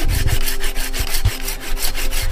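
A hand saw cuts through wood for firewood outdoors, with steady rhythmic back-and-forth strokes, loud and close, with no voices.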